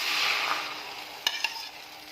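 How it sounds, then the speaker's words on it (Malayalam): Spanish omelette mixture poured into an oiled pan, a soft hissing sizzle that fades as the pour settles, followed by two sharp utensil clicks near the end, with no talking. "അതിനുശേഷം നമ്മുടെ ഈ കൂട്ട് ഇതിലോട്ടേക്ക് ഒഴിച്ചു കൊടുക്കാം"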